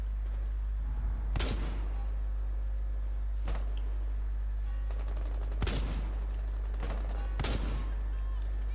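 Gunfire in Rainbow Six Siege cracks in several sharp separate shots and short bursts over a steady low background hum, moderately loud and spaced irregularly across the stretch.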